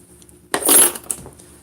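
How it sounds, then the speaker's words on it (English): Metal keys jangle as they are pulled from a pocket, a single bright rustling clink burst of about half a second followed by a smaller jingle, close and fairly loud in an otherwise quiet room. "I need to get my keys out of my pocket."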